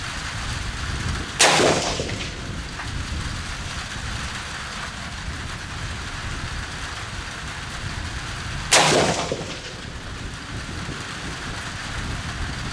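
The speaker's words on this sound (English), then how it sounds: "So let's actually take a shot." Two loud rifle shots fired at a target on an outdoor range, scoped with an ATN X-Sight II, each a sharp crack with a brief echoing tail, several seconds apart over steady wind noise.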